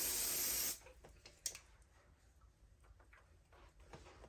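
Aerosol spray hissing onto a wig during a wig install, one steady close burst of about three quarters of a second, followed by quiet room sounds and a few light clicks.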